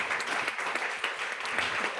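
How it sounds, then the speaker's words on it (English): Sustained, fairly loud applause from the audience at a faith and K–12 education panel event, a dense and continuous wash of clapping. "Please give another round of applause to this great panel"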